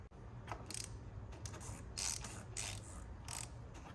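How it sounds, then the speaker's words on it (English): The rubber seal of an oil filter cap on an Audi RS5/RS4 4.2L V8 drags and ticks along the lubricated thread in soft, uneven ratchet-like clicks and scrapes, close and quiet, with no talking. "you can hear, that rubber just gently dragging down the exterior with that lubrication"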